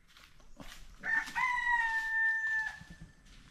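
A rooster crows once, a clear drawn-out call of about two seconds, heard at moderate distance over faint outdoor background noise near a yard where soil is being dug.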